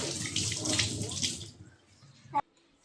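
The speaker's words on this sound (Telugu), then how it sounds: "ఫస్ట్ మనం హ్యాండ్ వాష్ చేసుకోవాలి నీట్గా" Running tap water splashes steadily over hands at a sink for about a second and a half, then stops, leaving a quiet room with one short knock near the end.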